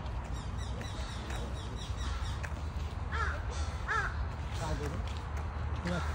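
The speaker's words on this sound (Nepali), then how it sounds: "कुन चाहिँ चरा करायो अब रात पर्नु लाग्यो" A crow caws a few times at nightfall, clear harsh calls over a low background rumble with a person talking.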